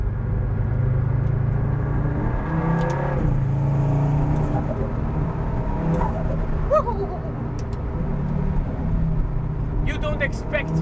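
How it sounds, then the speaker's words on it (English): KTM X-Bow GT-XR sports car with a 500-horsepower turbocharged engine, a loud steady rumbling drone with rising revs, heard from inside while someone talks over it. "don't expect this turbo rally sound in a car like this"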